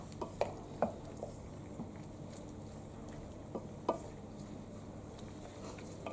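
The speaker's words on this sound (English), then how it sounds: "Right, I'm going to give this a quick mix." Pasta bake ingredients are mixed in a bowl, with quiet scraping and a few light clinks of a utensil over a low steady background hum, and no talking.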